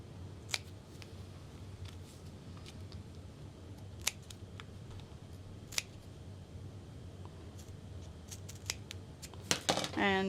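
Scissors snipping through fabric for a clutch bag, a series of sharp, close, scattered cuts over a low room hum, building to a rapid cluster of snips at the end.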